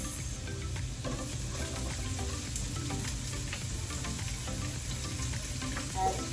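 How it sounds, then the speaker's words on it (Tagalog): Sliced onions fry in a hot pan with a steady, dense sizzle that holds evenly throughout, close by and with no talking over it. "So, ilagay na natin ang sibuyas."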